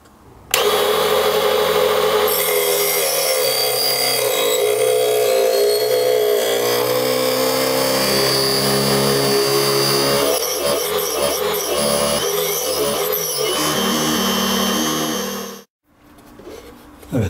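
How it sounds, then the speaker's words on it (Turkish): A loud circular saw driven by a DC 775 motor whines steadily for about fifteen seconds, its pitch shifting as the blade cuts a slot in its own cover, then cuts off abruptly. "Şimdi sırada mevcut testeremizin gücüyle kendi kapağında yuvasını açmak olacak"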